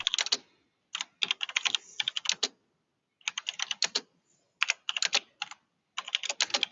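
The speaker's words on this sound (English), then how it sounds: "We can hear you clicking away on the keyboard. It's a nice mechanical keyboard" Rapid typing on a mechanical keyboard during a live stream, sharp clicky keystrokes in quick bursts broken by short pauses, fairly close with no talking.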